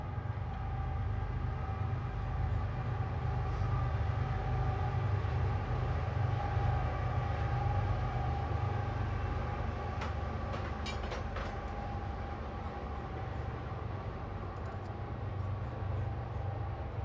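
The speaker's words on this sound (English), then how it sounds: "Hello, train." A train rolls steadily past outside a blacksmith's smithy, a continuous loud low rumble of rail wagons lasting throughout, with faint clicks and squeals in the upper range partway through.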